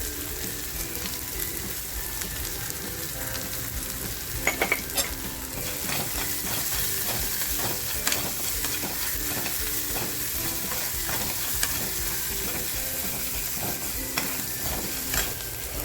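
Cumin seeds and chili crackling in hot oil in a pan for a fasting katvada recipe, a dense continuous sizzle with spatters and some stirring clatter up close, no talk.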